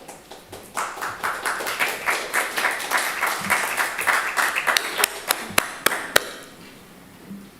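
Applause from the audience at a memorial builds into steady clapping, then thins out to a few scattered, sharp individual claps before fading into quiet room tone.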